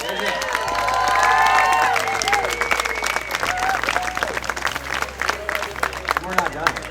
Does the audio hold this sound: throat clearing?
no